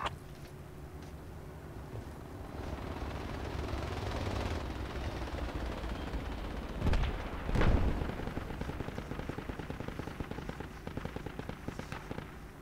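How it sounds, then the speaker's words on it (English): Gunfire aimed at a helicopter in a video game: a rapid string of sharp gunshots with a couple of louder booming blasts in the middle, mixed with whooshing chopper and battle noise, no talking. "He's shooting the chopper."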